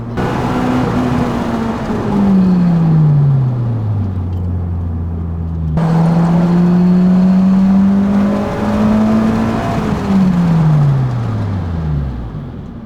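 A car engine revs and then winds down repeatedly, two loud decelerations in a row as a Honda Civic Type R brakes hard, close to the listener.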